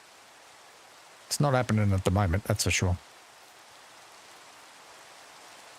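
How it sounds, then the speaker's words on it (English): Steady rain falls in a video game, a constant soft hiss at moderate level throughout, with someone talking over it for about two seconds in the middle. "It's always raining here"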